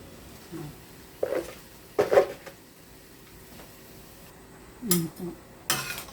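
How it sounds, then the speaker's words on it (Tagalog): Utensil scrapes and clinks against a pan as cabbage is stirred into seafood pancit canton, a few scattered knocks and rattles over a quiet kitchen background. "Halo-haloin lang po natin para maluto po yung repolyo"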